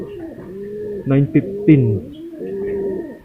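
Racing pigeons coo close by in soft, rolling repeated calls while someone talks over them.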